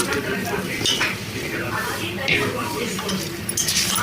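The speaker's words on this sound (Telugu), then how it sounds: "ఈ తాలింపు ఈ కారం కారంలో కలిపేసుకోవాలి మొత్తం" A spoon mixes cooled tempering into chili powder for sambar in a metal bowl, making repeated close scraping and clinking sounds while someone talks over it.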